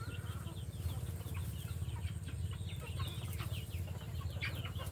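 Chickens cluck steadily at close range, several birds overlapping with soft fowl chatter over a low continuous rumble, with no voices.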